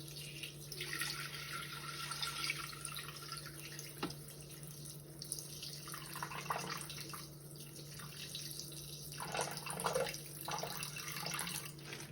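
Water poured into a Thermomix TM6 bowl, a soft continuous trickling and splashing stream, close and fairly quiet, with no talking.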